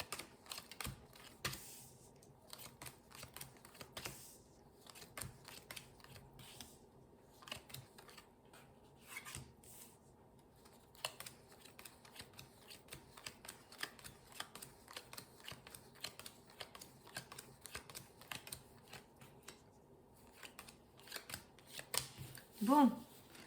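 Tarot cards being shuffled and drawn, soft scattered card flicks and slides in irregular bursts, close and faint, with light rustling and no voice.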